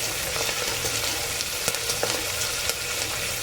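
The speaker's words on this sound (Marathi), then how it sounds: "बदाम फूल, दालचिनी, लवंग, कांदा, कढीपत्ता छानपैकी भाजून घ्यायचं" Onion, cinnamon, cloves, star anise and curry leaves roasting in a pan for spiced rice, giving a dense, even frying hiss with a few faint taps of a stirring spoon, near and uninterrupted.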